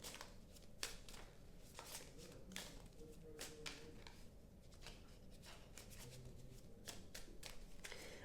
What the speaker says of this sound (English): These cards kind of don't want to shuffle.